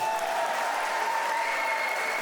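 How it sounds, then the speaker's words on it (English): Wedding guests applaud steadily throughout, a dense, even wash of clapping at a reception with no break or swell. "You guys give him a round of applause."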